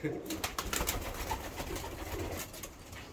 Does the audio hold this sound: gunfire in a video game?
no